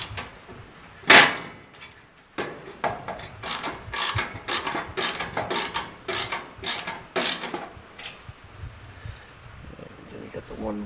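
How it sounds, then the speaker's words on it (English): Bolts are screwed in while assembling a Char-Broil Performance 4 Burner gas grill, giving a run of quick, close metallic ratchet clicks with a few louder knocks, while a person talks. "Let me just screw these in a little bit"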